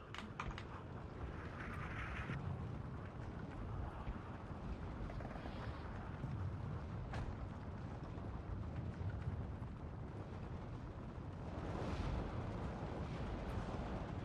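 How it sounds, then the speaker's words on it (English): Mortar barrage shelling a hill in Steel Division 2, a steady rumbling wash of distant explosions and artillery fire that runs through the whole stretch, with a few sharper bursts on top and no talking. "I'm going to mortar the crap out of it again"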